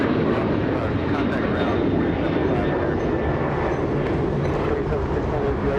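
A United Airlines airliner departs LAX bound for Houston. A broad, steady jet roar fills the air at moderate distance without fading.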